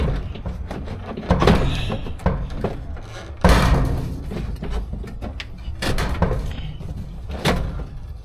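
A painted car door is worked free and removed with a string of clunks, knocks and metallic rattles, a couple of sharper bangs standing out, close and fairly loud with no talking.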